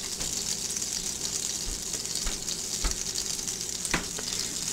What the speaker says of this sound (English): You can watch that steak sizzle.